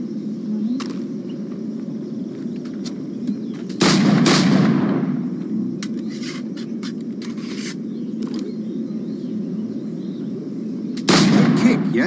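Gunfire in the video game Assassin's Creed Black Flag: two loud, booming firearm shots, several seconds apart, over a steady low game ambience.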